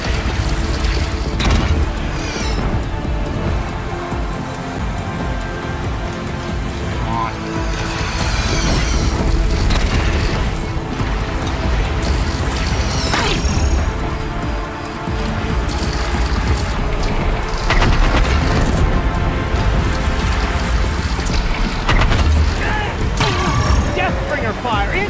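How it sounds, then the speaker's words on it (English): Deathbringer machine fire in the video game Horizon Zero Dawn: loud, continuous booming bursts and crashing impacts with heavy rumble, sustained across the whole stretch without letup. "Deathbringer fire incoming!"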